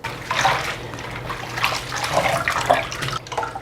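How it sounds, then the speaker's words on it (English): Blanched spinach is squeezed by hand over a bowl after an ice-water bath, giving a steady splashing trickle of water that runs continuously with small drips and squelches, close up. "We're going to squeeze out the water."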